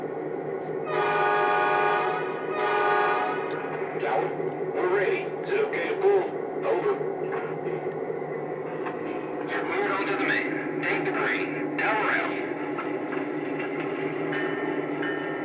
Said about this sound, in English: And that bell is automatic now.